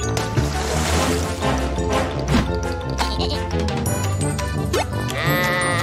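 Sheep bleating loudly over a busy musical backing, with a sustained wavering cry repeated across the clip.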